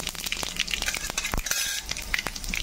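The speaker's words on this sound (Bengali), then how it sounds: "এবার 5 ফোড়নটা দিয়ে দিচ্ছি এখানে।" Panch phoron five-spice frying in hot oil in a kadai, heard as a quiet, busy crackle and sizzle with small clinks and stirring scrapes.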